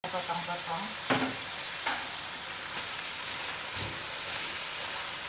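Food frying in a pan with a steady, even sizzle, broken by a few clanks and scrapes of stirring, with a voice speaking softly underneath at the start.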